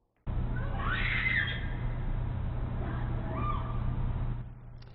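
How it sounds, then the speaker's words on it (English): A woman screams aboard a Milwaukee County Transit bus, with loud, shrill, wavering cries in the first seconds and fainter repeated yells later, set against a constant low engine hum. "you hear that woman screaming there"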